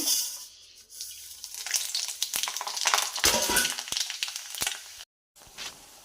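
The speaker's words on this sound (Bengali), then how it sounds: "একটু মুগ ডাল ভেজে নেব। এই যে ফোড়নটা দিয়ে দেব।" Moong dal frying with tempering spices in hot oil: a loud, close hiss and crackle with a few sharp pops, which cuts out abruptly near the end before a short return.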